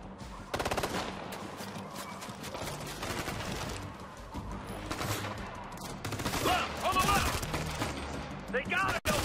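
Dense, sustained automatic gunfire in Ghost Recon Future Soldier, a military shooter video game, with overlapping bursts that stay loud throughout and grow more intense toward the end, under shouted voices.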